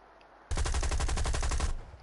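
Cannons on a video-game vehicle fire in one loud, rapid burst of evenly spaced shots lasting just over a second, then cut off abruptly.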